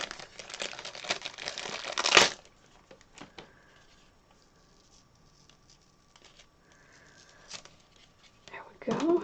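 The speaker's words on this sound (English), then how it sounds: "So I'm going to just pull out my thin 3D foam tape." Thin 3D foam tape is pulled out of its crinkly packaging, making close, loud crinkling and rustling bursts at the start and end, with a quieter stretch between and some soft talk.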